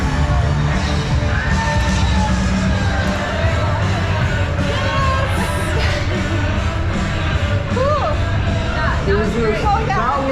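At an NBA halftime show in a packed arena, a loud crowd cheers and shouts continuously, with some voices rising above the steady roar.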